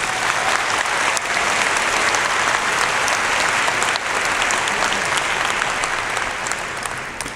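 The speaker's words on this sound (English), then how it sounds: "Let's give him a round of applause." Sustained applause from a large crowd at the 2019 Liberty High School graduation ceremony, a dense, even roar of clapping that carries on for several seconds before easing slightly at the end.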